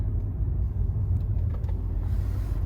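Inside a 2017 Mercedes-Maybach on the road, a soft, even, low rumble of tires and engine fills the cabin, with a faint light tick or two and no talking.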